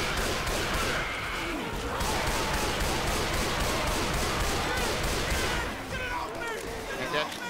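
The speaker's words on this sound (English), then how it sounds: "I got a big bomb off" A big bomb goes off in the Left 4 Dead 2 Death Toll boathouse survival map. It lands as a loud, dense blast that runs into sustained heavy gunfire and crashing noise, with players talking over the top.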